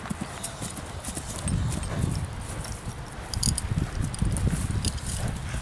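A bay horse walking, ridden bareback, its hooves striking in a steady clip-clop rhythm at moderate distance, with faint background sounds.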